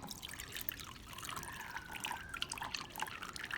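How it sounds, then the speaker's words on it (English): Water drains from a bowl of soaked red beans, a faint continuous trickle with small irregular drips and splashes throughout. "Now, drain the water."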